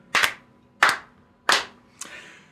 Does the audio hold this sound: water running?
no